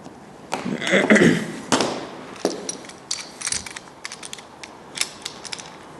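A copper pipe bending machine for refrigeration piping is worked by hand, producing a run of irregular clicks, clanks and crunching mechanical noises, louder at first and then scattered and sharp.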